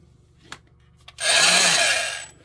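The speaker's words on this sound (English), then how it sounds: "I'm going to take my oscillating saw," An oscillating saw starts cutting into a bed's electrical receptacle after a couple of small clicks and taps, giving a loud, steady, buzzing rasp that runs for about a second and then trails off.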